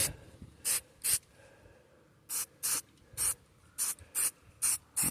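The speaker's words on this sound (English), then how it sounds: "Go ahead and spray all of it." Aerosol spray paint applied to a VW Passat part in short bursts, about eight sharp hissing sprays separated by brief pauses, close and clear against a quiet background.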